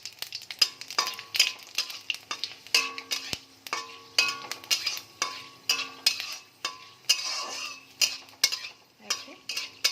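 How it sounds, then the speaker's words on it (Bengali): Dried red chilli, bay leaf and five-spice seeds sizzle in hot oil, a steady frying hiss broken by repeated sharp clatters of a spatula stirring against the pan, close and fairly loud with no talking. "এবার আমি একটা শুকনো লঙ্কা, একটা তেজপাতা আর সঙ্গে 5 ফোড়ন সম্বার দিয়ে দেবো।"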